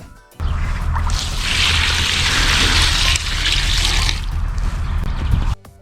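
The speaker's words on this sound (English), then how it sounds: "Then, pour water into the bucket." Water pours steadily into a bucket of dandelions, a close, loud splashing gush that runs for about five seconds with a brief dip in the middle before stopping.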